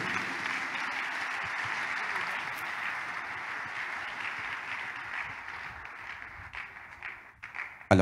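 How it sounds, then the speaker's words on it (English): A church congregation claps for Jesus in sustained, dense applause that holds steady and then gradually thins and fades toward the end, finishing with a sharp louder knock. "People of God, clap for Jesus once again."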